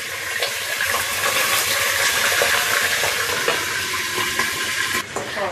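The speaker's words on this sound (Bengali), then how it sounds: "আম্মু মুরগিগুলোকে সুন্দরভাবে ভেজে নিবে রোস্ট করার জন্য।" Marinated chicken pieces frying in hot oil in a pan for a roast, giving a loud, continuous sizzle and bubbling up close with no talking.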